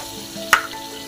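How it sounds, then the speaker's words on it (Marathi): Tomatoes sautéing in a pan give a low, steady sizzle with one sharp spoon clink or scrape in the middle, fairly quiet and without speech. "आणि हे चांगलं परतून घेऊ। आता यामध्ये टोमॅटो टाकून घेऊ।"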